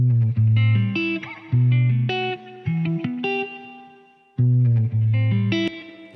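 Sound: spring reverb from Strymon BigSky plugin

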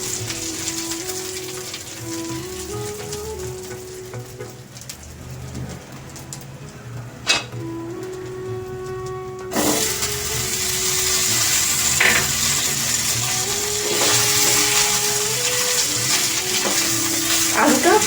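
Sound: potatoes frying in oil with bay leaf and dried chilli

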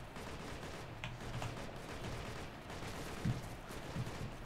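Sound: gunfire in firefight, Operation Flashpoint: Red River video game

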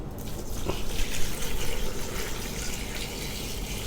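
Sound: water poured into a pot of pork bones for Thai leng soup

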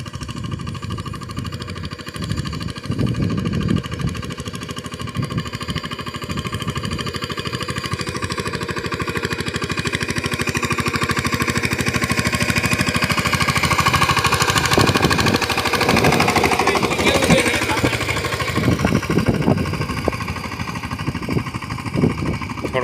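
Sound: tractor engine running

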